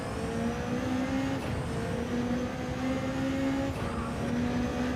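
Race car engines from the Gr.1 prototype class in Gran Turismo 7 drone steadily at a fairly quiet level, a continuous engine hum with faint shifting tones and no talk over it.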